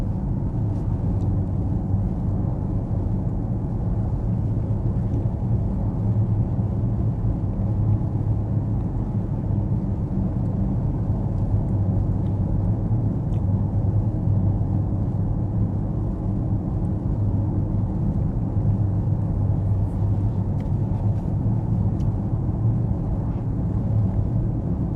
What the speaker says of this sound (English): Wow, this car is so noisy.